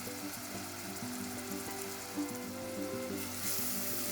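Chopped onions fry in a pan for a tomato curry, giving a steady, close sizzle broken by light stirring scrapes under soft background music.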